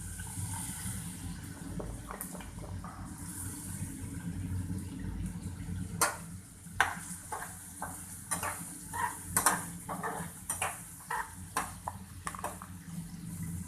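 Chopped onions tipped into a hot pan with ginger and garlic for chilli paneer, giving a steady low sizzle with scattered scraping and clinking of a spatula against the pan.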